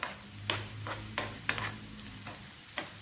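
Shallots and ginger sizzle gently in hot oil for a chili chutney, a soft, quiet fry broken by sharp clicks of a spoon stirring against the pan every half second or so.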